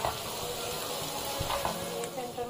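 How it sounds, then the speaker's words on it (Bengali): Chopped vegetables frying in a pan for white sauce pasta give a soft steady sizzle, with a few stirring knocks and faint background voice, close but fairly quiet. "দিয়ে আমি ভালো করে আর কি 2 মিনিট আবারও ভেজে নিব।"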